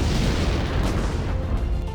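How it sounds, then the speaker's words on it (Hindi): Fire at a firecracker factory sets off a dense, roaring wall of explosions, loud and continuous with rumbling booms blending together and no clear gaps. "जैसे ही फैक्ट्री में आग लगी, एक के बाद एक धमाके होने लगे।"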